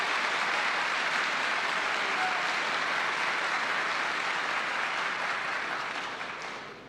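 Applause fills a legislative chamber during the opening of the legislative session, a dense, sustained clapping from a large crowd that holds steady before fading out toward the end.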